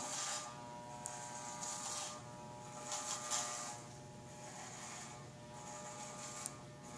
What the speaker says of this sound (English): As I'm shaving his head already